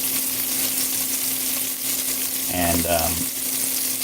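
A cheeseburger frying in a metal pan with its cheese melting onto the hot metal, a steady close sizzle running throughout, with a brief spoken word partway through.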